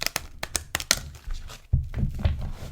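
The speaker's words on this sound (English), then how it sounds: "Let me do one more shuffle and we will see what we draw." Tarot cards shuffled close up: a quick series of crisp snaps and riffles, then softer thuds and rustles of the deck being squared, quiet and without talk.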